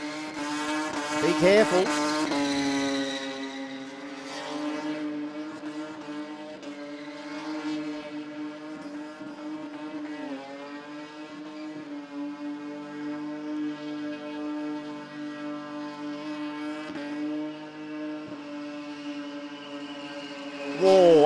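A modified street car at the Garrett Adelaide Jamboree skids near a barrier, its engine droning loudly and steadily while tyres squeal, with a brief spoken warning near the start.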